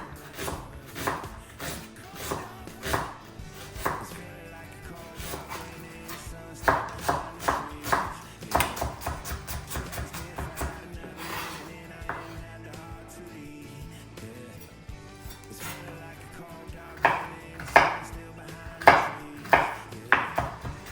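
A knife chops onion and ginger on a board while preparing ragi vermicelli upma, giving quick, irregular runs of crisp, close thuds that swell into louder bursts, with faint kitchen clatter underneath.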